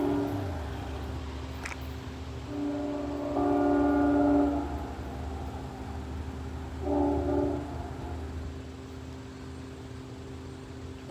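A freight train sounds its horn in two blasts, a long chord lasting about two seconds and then a shorter one, heard from a moderate distance over a steady rumble of rail noise.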